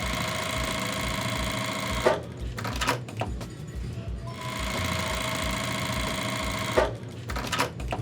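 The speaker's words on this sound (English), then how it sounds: "I'm gonna sew 1/4 inch seam away from both sides." A sewing machine runs steadily, stitching a quarter-inch seam along a marked diagonal on quilting fabric, with a couple of brief pauses as the fabric is adjusted before the motor resumes; close and fairly loud.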